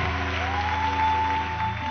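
A church congregation claps for a preacher, a blurred wash of hands over sustained droning musical tones, fairly loud and continuous.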